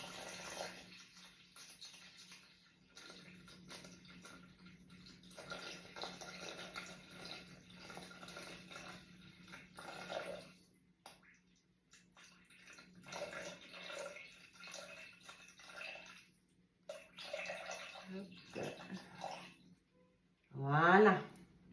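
650 g of water is poured into a Thermomix bowl for a chicken and mushroom risotto, making an uneven stream of splashing that runs and pauses, with a short voice near the end.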